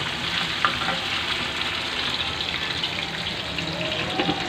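Chopped onions fry and sizzle in a pan while being stirred for masoor dal, a steady close crackling hiss with faint scraping, no talking.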